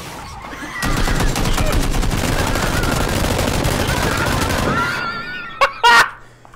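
An M249 SAW machine gun fires in a video game, a long sustained rapid burst lasting several seconds at close range, followed by a couple of brief sharp sounds and a short laugh.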